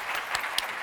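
Audience applause at a writers conference awards ceremony, a steady wash of clapping from a seated crowd for the brief moment, fairly even with a couple of sharper claps near the end.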